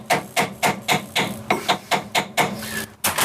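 A screwdriver taps a Weber DCOE carburettor about a dozen times, each strike sharp, close and evenly spaced, with quiet gaps between hits.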